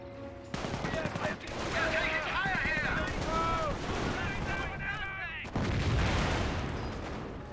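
Heavy gunfire and artillery in a Company of Heroes battle: dense, loud, continuous volleys and bursts with whistling shells overhead and a rumbling background, mixed with game voice lines.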